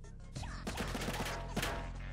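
Video game gunfire: a dense run of rapid shots under a loud, continuous low background, sounding close and busy, with no distinct talk.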